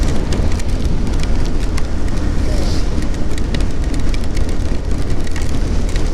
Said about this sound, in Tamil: சரியான மழை பொழுதுப்பா.